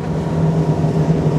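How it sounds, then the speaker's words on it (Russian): A motorboat runs steadily on open water, its engine giving a continuous low hum with wind and water noise, with no breaks and no talking. "Смотрите, как лодки ходят."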